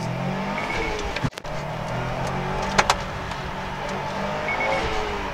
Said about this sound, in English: It still is very fun to row through the gears and feel the boost kick in